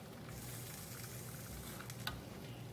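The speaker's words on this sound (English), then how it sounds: "Now I'm going to fold in the tomatoes." Ground beef, zucchini and tomatoes sizzle steadily in a hot wok, a constant bed of frying crackle with faint scrapes of a small spatula as the tomatoes are folded in, close and moderately quiet, with no talking.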